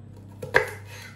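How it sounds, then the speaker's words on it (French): A single knife stroke slicing a bell pepper lengthwise on a cutting board, one short, crisp cut against a quiet kitchen background. "Et ensuite, je vais le couper dans le sens de la longueur."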